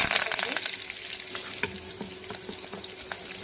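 Dried chilies, mustard seeds, cumin and a few curry leaves crackle and sizzle in hot oil, a busy bright frying noise with sharp pops that is loudest at the start and then settles into a steadier sputter.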